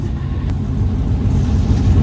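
A turbocharged LS-swapped third-generation car engine rumbles steadily at close range in drag strip staging lanes, a deep continuous drone that builds slightly in loudness without clear revving peaks.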